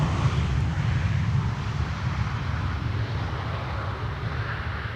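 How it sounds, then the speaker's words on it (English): Lufthansa Airbus A320 arriving from Frankfurt at Schiphol on runway 18R, a steady, broad jet engine roar with wind buffeting the microphone, continuous and fairly loud without any talk. "Lufty A320, flight 988, arriving from Frankfurt."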